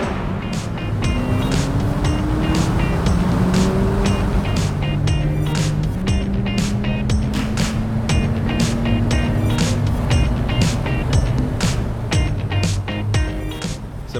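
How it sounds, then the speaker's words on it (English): A 2018 McLaren 570S Spider V8 engine revs loudly through rising and falling gear pulls, with sharp crackles and pops from the exhaust scattered over the drone, close and dominant throughout. "it lowers the pane of glass behind you so you can hear that V8"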